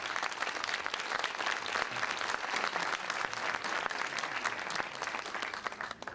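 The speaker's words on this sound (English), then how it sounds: "Let's give them a round of applause." Applause from an audience for a pair of presenters runs at moderate, even density throughout, with no one speaking over it.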